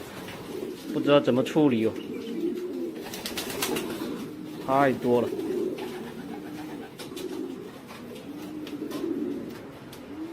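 A flock of young racing pigeons coo around a cluttered loft, soft overlapping calls under a person talking, with occasional wing flutters.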